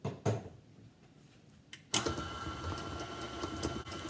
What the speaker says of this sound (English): take your softened butter and throw it into your KitchenAid